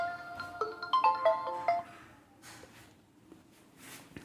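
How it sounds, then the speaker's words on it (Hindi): A mobile phone's melodic ringtone chirps a quick run of electronic notes for an incoming call, close and clear, then fades into quiet room noise with a few soft knocks. "फोन आ रहा"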